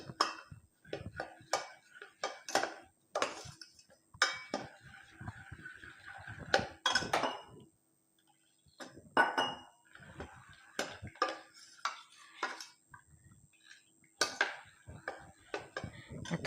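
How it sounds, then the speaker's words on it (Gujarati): Roasted flour being stirred with water in a pan for Gujarati kadhi, heard as repeated clinks and scrapes of a utensil against the pan in an irregular rhythm, close and alone without talk. "પાણી લઈને આપણે આ રીતે લોટને હલાવી લેશું।"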